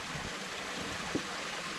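A shallow river stream used for hand-washing laundry flows steadily, a constant broadband wash of moving water close by with one brief small splash near the middle, and no voices.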